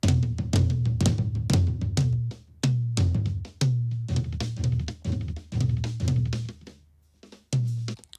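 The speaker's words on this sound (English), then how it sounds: "It's the Berserk distortion from Waves." Tom drum fill run through Waves Berserk distortion, a series of punchy, gritty drum hits in quick bursts with short gaps, loud and close, with no talking.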